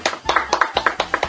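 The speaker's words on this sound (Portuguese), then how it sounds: "Uma salva de palmas para Saulo Milete" A few people clapping briefly for a podcast guest, a short burst of quick, close hand claps with no voices.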